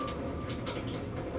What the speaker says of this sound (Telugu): మీరు ఇలా టచ్ చేయగానే దీంట్లో కూడా అసిడిక్ వాటర్ వస్తుంది.